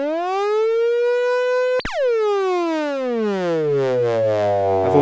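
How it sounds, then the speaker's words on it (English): A synthesizer tone runs through a Moogerfooger Freq Box pedal and a Moog CP251, alongside a Korg MS-10. A rich, buzzy sustained note rises slowly, cuts sharply near two seconds, then sweeps down with full portamento glide into a lower, gritty drone. "Again, the Moog CP251 and the Moogerfooger Freq pedal."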